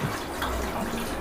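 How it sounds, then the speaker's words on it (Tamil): Water pours into a large bucket during home cooking of momos, a brief, steady rushing splash that is fairly loud and continuous with no talking. "நீ வந்து தண்ணி ஊற்றணும்."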